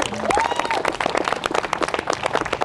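Wedding guests clap their hands at a ceremony, a dense, close burst of applause spanning the whole moment with a brief bright tonal whistle early on and faint voices underneath.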